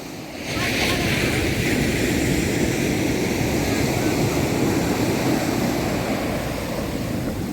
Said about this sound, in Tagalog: Huwag ka sa alon.